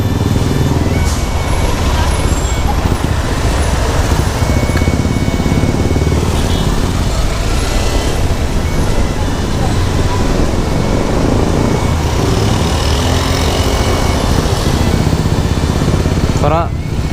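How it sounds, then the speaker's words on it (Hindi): Busy city street traffic in Aizawl with motorcycles and other vehicles passing nearby, a loud continuous mix of engine rumble and road noise with no horns, heard together with some voices across the whole stretch. "ट्रैफिक बहुत होता है देखो ना, लेकिन ना कोई भी हॉर्न नहीं देता है"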